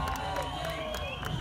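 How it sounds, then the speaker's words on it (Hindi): Audience at the Adipurush film event clapping and cheering in a dense, continuous burst of applause with crowd noise, all through the short moment. "जोरदार तालियां हो जाए।"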